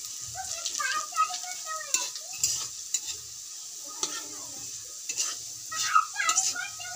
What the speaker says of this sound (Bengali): এগুলো একটু লাল লাল করে ভেজে নিই, নাহলে আবার রসুনের গন্ধ করবে।